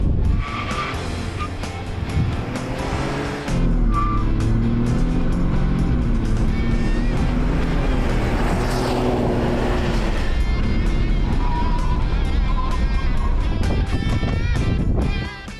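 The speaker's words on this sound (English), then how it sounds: "Next up is the 0 to 60 acceleration test." A 2020 Ford F-150 XLT sport truck builds revs hard through a 0 to 60 acceleration run, the engine rising in pitch through the gears with some tire squeal and wind noise, loud and close throughout.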